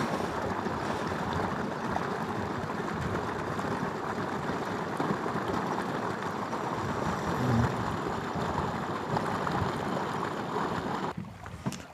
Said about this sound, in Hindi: इस पहाड़ से निकल आ रहा है पानी,